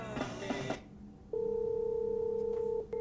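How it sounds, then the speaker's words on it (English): An electronic phone ring tone sounds as one steady, loud, sustained beep lasting about a second and a half. It follows a brief burst of other sound and is heard alone. "My phone's ringing."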